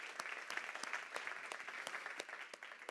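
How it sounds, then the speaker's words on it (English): Audience applause at the South Summit Health & Wellbeing stage in Valencia, with steady, fairly faint clapping and individual sharp claps standing out through it. "Ladies and gents, a big round of applause for Gil."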